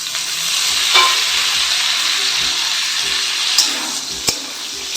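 Chopped tomato frying in oil with browned potatoes, a steady close sizzle with a few soft stirring clinks, no voices.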